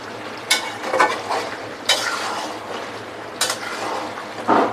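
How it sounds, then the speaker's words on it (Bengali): Beef frying in a pan is stirred with a spoon, giving a steady sizzle broken by a few sharp scraping strokes at irregular intervals, close and fairly loud. "এবার মাংস হওয়ার আগ পর্যন্ত এভাবে নাড়াচাড়া করতে হবে"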